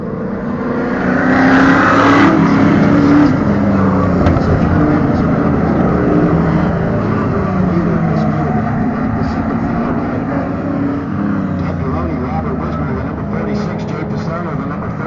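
Race cars including a black and red Pontiac Firebird roar around a track at Waterford Hills, a loud continuous engine drone with shifting pitch as cars pass, under a commentator's voice.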